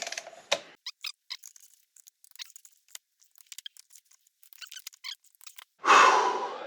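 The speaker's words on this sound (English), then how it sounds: "So that's where your torque wrench is coming in." A torque wrench tightens supercharger bolts on a 2019 Toyota Tacoma, giving quick bursts of small ratcheting clicks with short pauses between them, close and fairly quiet, ending in a louder rushing noise.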